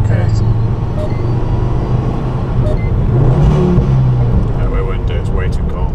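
A Ford Focus ST engine revs hard toward 4000 rpm, a loud steady drone with a rising whine, heard from inside the car while a person talks over it.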